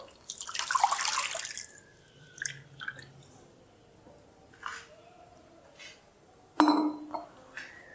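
Milk poured into a pan of white sauce taken off the flame: a brief splashing pour at the start, then quiet drips, a faint squish and a couple of light clinks, ending with a sharper clink.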